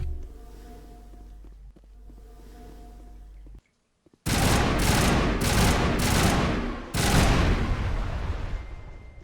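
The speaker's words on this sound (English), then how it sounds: "I think shooting the power junctions weakens." Gunfire in Mass Effect Legendary Edition, aimed at power junctions, erupts suddenly after a quiet hum and a brief silence, as loud sustained bursts of rapid shots that pause briefly before resuming.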